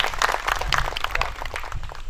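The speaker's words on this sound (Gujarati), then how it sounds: "જોરદાર તાળીથી આપણે એને વધાવીએ" Applause from a chamber of commerce meeting audience in Amreli welcoming the district chamber president, a steady continuous wash of clapping throughout, moderately loud with no talk over it.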